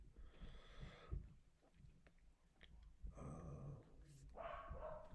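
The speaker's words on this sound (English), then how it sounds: "I gotta mute up when that dog barks." A dog barks a few times in a room, the barks loud and fairly close, mixed in with someone talking.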